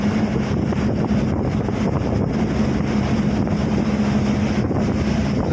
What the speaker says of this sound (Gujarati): સવારનો પવન છે